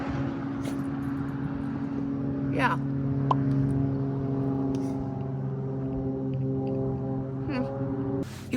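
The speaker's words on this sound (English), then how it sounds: "There are planes flying overhead" Small propeller planes flying overhead at a campsite, a steady droning engine hum with sustained tones persisting throughout, with a brief voice in the foreground.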